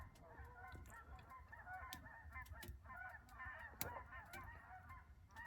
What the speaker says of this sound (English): there's some more geese flying over